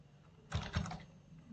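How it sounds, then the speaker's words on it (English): A short burst of keystrokes on a computer keyboard, several quick close clicks in a quiet room, with no speech. "I'm going to just type in 0 to 3 months"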